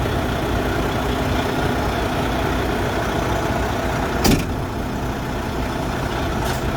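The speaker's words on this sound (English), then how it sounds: "now I'm going to move the truck forward." A heavy truck engine runs steadily at close range with a low rumbling drone as the truck moves forward during coupling, and a brief clack sounds near the end.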